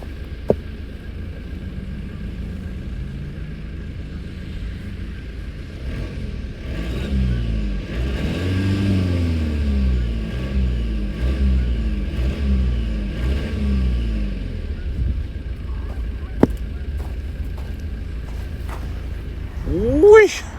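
A Volvo XC90 diesel engine is revved hard in the snow, its rough, rising and falling roar swelling through the middle of the clip before settling back to a low idle, with a voice exclaiming over it.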